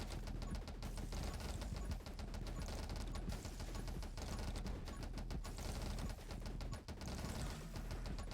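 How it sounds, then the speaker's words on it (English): Frosty explosions wiping out swarms of enemies in the game 20 Minutes Till Dawn, a dense, continuous crackle of rapid popping bursts over thumping background music. "see how they die in those nice swaths of frosty explosions"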